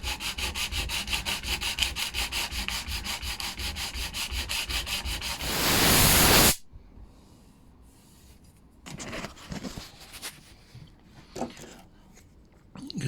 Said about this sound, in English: I'll give it a sand.